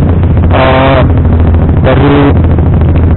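A Honda CBR 150R facelift motorcycle fitted with a CLD C7 exhaust idles loudly and close with a deep throb, rising in two brief revs.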